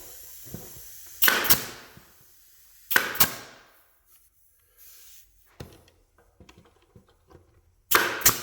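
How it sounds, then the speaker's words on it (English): A nail gun fires brads into a plywood form in sharp, loud pairs of snapping cracks separated by quiet gaps, with faint handling clicks between the shots. "I'm going to put a couple of brads in this to help hold it."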